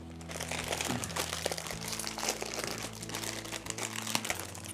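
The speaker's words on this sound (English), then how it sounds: "So, I happen to have a couple little bags of crunchy Cheetos." A small bag of crunchy Cheetos is crinkled open close up, with continuous crackling and rustling of the snack packaging at a soft level, and a faint hum in the background.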